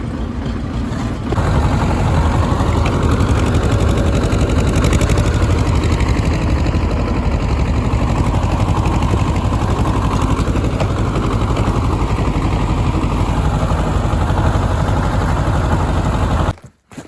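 A vehicle driving across a vegetable garden plot: a loud, steady engine drone with rattling and rough bumping that runs continuously, then cuts off abruptly near the end, with no voices.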